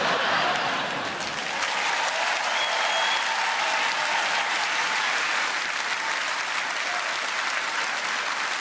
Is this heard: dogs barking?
no